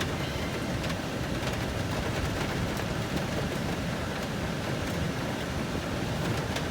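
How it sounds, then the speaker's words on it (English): Hail begins falling during a storm as a dense, continuous patter of small impacts with scattered sharper ticks, steady and even across the whole stretch. "Starting to hail a little bit."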